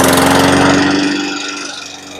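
A small engine runs loudly at close range with a steady, buzzing drone that eases off slightly toward the end.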